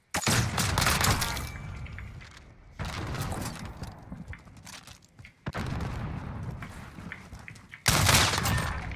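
Rapid bursts of automatic gunfire in the video game Modern Warfare, loud dense volleys arriving in three or four separate stretches with brief quieter gaps between them.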